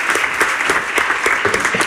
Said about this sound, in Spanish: Un aplauso para él, porque sí.